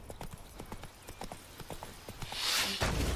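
Horse hooves clip-clop in a steady rhythm while riding in The Witcher 3, close and moderately loud, with a brief burst of hissing noise near the end.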